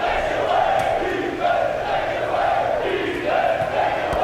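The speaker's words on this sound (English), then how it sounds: "As this Syracuse crowd is trying to will the orange back into it" Syracuse home crowd in a simulated college basketball game, a loud sustained roar with rhythmic swelling chant-like waves.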